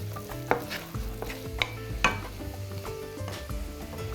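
Mushrooms sizzling in a frying pan, seasoned with salt, with a steady low frying hiss broken by occasional stirring scrapes and taps, close up and without talk.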